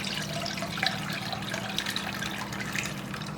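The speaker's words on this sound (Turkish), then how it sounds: "Kemik suyumuzu süzgeçle süzüyorum böyle." Homemade bone broth from sacrificial-animal bones is poured through a sieve, making a steady close splashing and trickling of liquid for a few seconds.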